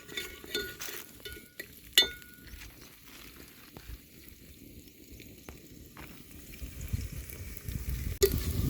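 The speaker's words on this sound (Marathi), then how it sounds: "खडे मसाले हलके भाजून झाल्यानंतर त्यामध्ये टाकूयात लसूण आणि आलं रफली चॉप केलेलं आहे" Whole spices with roughly chopped garlic and ginger roasting in a pan over a wood-fired chulha for chicken pulao, a soft sizzle under intermittent metallic stirring clinks and scrapes, with a louder stir near the end.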